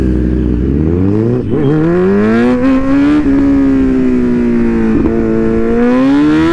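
Kawasaki Z900 motorcycle engine revving and accelerating, a loud close exhaust note climbing in pitch through short gears with quick shifts, sustained throughout with no talk.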